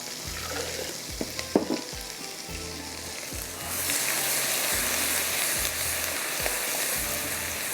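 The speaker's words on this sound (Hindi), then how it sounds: "इसको थोड़ा सा हम पकाते हैं" Kalonji baingan masala (eggplant with nigella seeds) sizzles and fries steadily in a pan, with a few stirring knocks early on before the sizzle swells louder and fuller, continuous and close with no talking.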